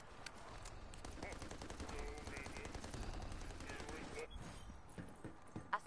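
Rapid automatic gunfire from a video game match, dense continuous bursts layered over game effects and ambient noise, with occasional sharper shots near the end.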